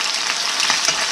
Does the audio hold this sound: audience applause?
no